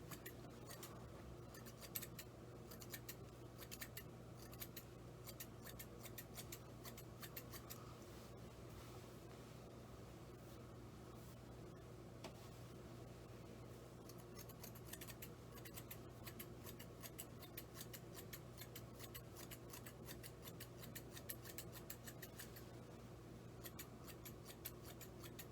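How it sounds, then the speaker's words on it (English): Thinning shears snipping through hair during a home fade haircut, heard as faint, fast, irregular crisp snips and ticks spread across the whole stretch over a steady low background hum, with no talking. "don't be afraid to chop at it with some thinning shears"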